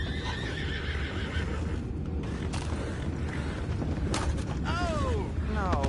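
A horse in the video game Red Dead Redemption 2 whinnies twice near the end, over steady clip-clop hooves, creaking and a constant rumbling background.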